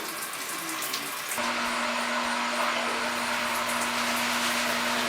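Water gushes steadily from an electric shower head, a close, continuous spray with a faint hum running beneath it, growing fuller after the first second.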